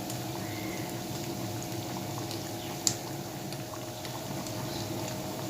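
A pot of fish curry (mantha/flounder fish in a chilli gravy) boiling, a soft, steady bubbling simmer throughout with one small sharp tap midway.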